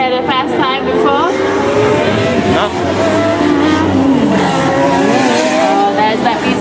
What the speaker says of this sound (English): car number 40 is trying very hard to get past. Yeah, there they go